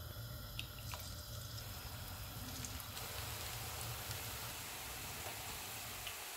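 Vegetable pakoras frying in hot oil in a home kitchen: a steady, faint, hissing sizzle with light bubbling and no talking.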